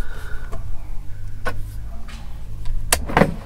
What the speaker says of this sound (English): there's the wipers, and they're variable speed wipers